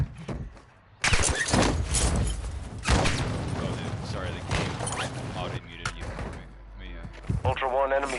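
Heavy gunfire and booming shots fill a firefight in the video game DMZ, with a sharp crack at the start and continuous blasts throughout, while a voice speaks over the action near the end.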